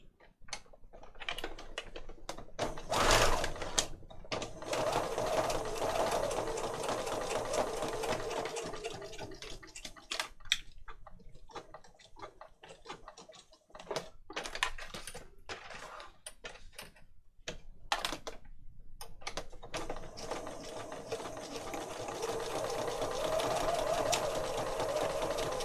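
A sewing machine stitches through a junk journal, running in close rattling bursts broken by short pauses and a few sharp clicks, with no speech.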